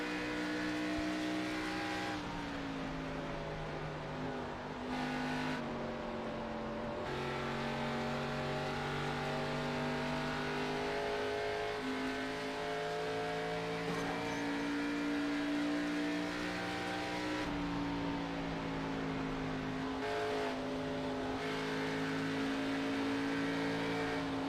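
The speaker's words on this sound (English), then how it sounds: "Hear just how gingerly these drivers have to be on that throttle to avoid contact" Race cars at Darlington Raceway drone continuously at close range, their engine pitch rising and falling gently as drivers feather the throttle in a tight pack, with no voices.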